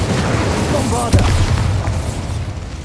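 Bombarda explosion spell in a wizarding video game, a single booming burst near the middle that rings out briefly under a low game rumble, with a voice speaking around it.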